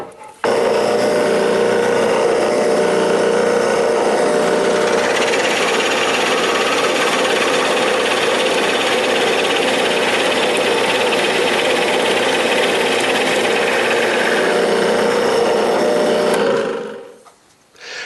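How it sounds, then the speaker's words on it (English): A drill press bores a partial hole into a small clamped piece, a loud steady whirring grind lasting about sixteen seconds before the motor winds down and stops, then a faint knock. "drilling small pieces on the drill press can be dangerous"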